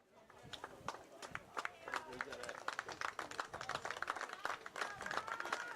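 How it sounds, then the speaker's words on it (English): Jamestown fans at a baseball game against Bellevue give scattered, uneven applause during a pitching change, the individual claps popping out irregularly while a commentator talks over them. "Applause from the Jamestown fans here"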